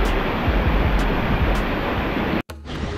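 Huanano waterfall (Guanano) in the Peruvian highlands pours with a steady, close broadband roar of falling water that fills the whole clip, cutting out abruptly for a moment near the end before resuming more faintly.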